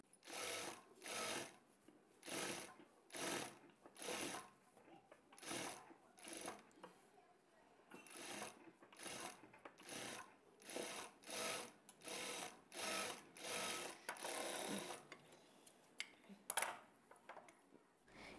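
A sewing machine stitches the front panel of a prince-cut blouse in a long series of short, even bursts with brief pauses between them, close and clear, with no talk over it.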